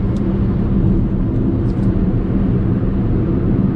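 A JAC E-JS1 electric car accelerates at full pedal down a mountain road. It gives a loud, steady rumble of road and wind noise with a faint motor whine and no voices.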